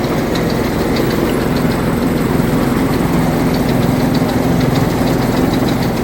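Engine of a tractor-driven paddy threshing machine running steadily, a loud continuous idling rumble with faint knocking, close and unbroken, no voices.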